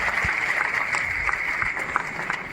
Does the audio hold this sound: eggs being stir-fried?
no